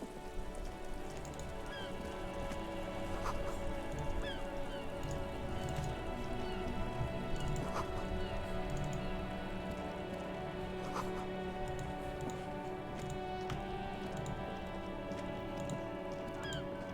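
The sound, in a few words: rain falling in the video game Disco Elysium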